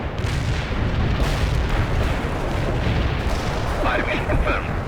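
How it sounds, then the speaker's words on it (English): Mortar artillery barrage in World in Conflict, a dense continuous rumble of booms and blasts with a brief crackling burst near the end. "Fire mission confirmed. Bombard the target coordinates."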